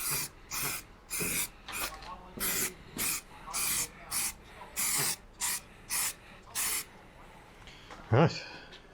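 Spray paint is applied to a Citroen 2CV body panel over primer in about a dozen short, evenly spaced hissing bursts, close by, followed by a single soft knock.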